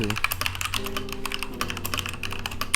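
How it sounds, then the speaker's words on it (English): Typing on a stock Keychron K2 version 2 mechanical keyboard with ABS keycaps gives rapid, uneven clacking keystrokes, close and clear, continuing throughout without speech. "This is my stock sound from my Keychron K2 version"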